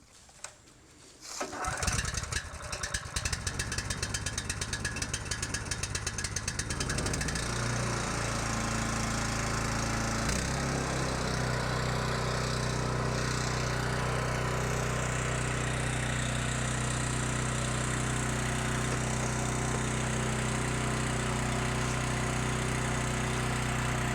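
A petrol wood chipper used to make garden mulch starts with a few sputters, then settles into a loud, steady engine drone that holds while wood is fed in.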